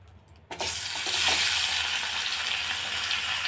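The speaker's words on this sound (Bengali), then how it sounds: "পনিরটা আমি ভেজে নেব এইভাবে সব পনিরটা আমি ভালো করে ভেজে নেব" Paneer pieces drop into hot oil and burst into a loud, close sizzle that swells quickly and then holds as a steady, dense hiss with no talking.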